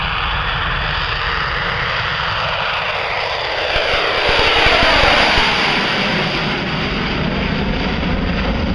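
The Avro Vulcan XH558 jet bomber taking off at Farnborough, a loud continuous roar of jet engines that rises and sweeps as it passes nearby, heard alone with no talk.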